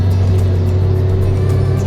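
A bus engine drones steadily at close range from inside the cabin, a low constant hum with a little rattle and no talking.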